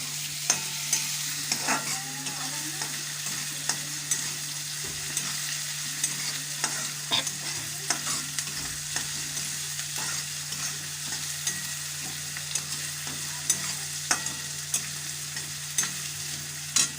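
Onions fry in a pan for methi bhaji, a steady close sizzle with frequent light scrapes and taps of stirring over a constant low hum, no voices.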